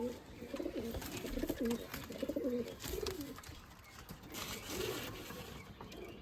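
Andhar and old-line Giribaz pigeons coo nearby in a run of rolling calls, busiest early and then trailing into a quieter, sparser call near the end, with faint background noise.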